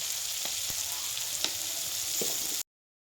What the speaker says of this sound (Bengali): এই দেখো এগুলোকে ভালো করে সেই একই তেলে ভেজে নিচ্ছি সুন্দর করে